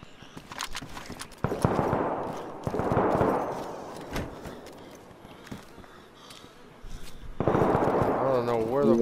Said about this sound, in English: Where the fuck did that shot came from?